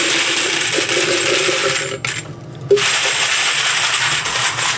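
Brass .40 Smith & Wesson cartridge cases clink and jingle continuously as they pour into a container, with a brief pause and one sharp clatter before pouring resumes.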